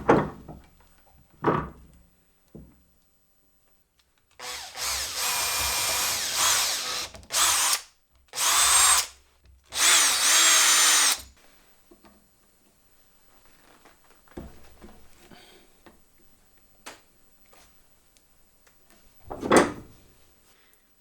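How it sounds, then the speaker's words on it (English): A power drill bores out a hole in the top of a metal shaft for a track field lantern, loud whining bursts of several seconds each separated by pauses, with a few knocks and clicks around them. "First I have to drill out this hole in the top of the shaft, so this piece will fit in here."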